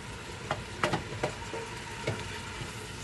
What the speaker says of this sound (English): We're on high heat. We're trying to get our meat brown and get some good flavors in there.